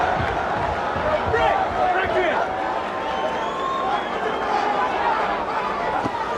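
Boxing crowd at a Mercer versus Morrison fight rising in a steady roar of cheers and chatter in support of Mercer, with a commentator talking over the noise throughout.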